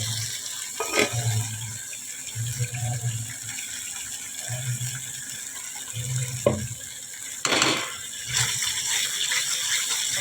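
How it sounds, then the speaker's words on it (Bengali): Water is poured from a bowl into paneer masala cooking in a pan, giving a steady watery hiss with a few brief splashes and clinks against the vessel. "সাথে একটু জল দিয়ে দিচ্ছি বাটি দিয়ে"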